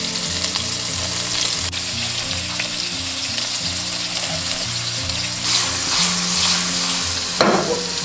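Scallops flipped and pan-frying in cooking oil over medium-low heat, a steady close sizzle running the whole time with a few brief scrapes and a louder crackle near the end.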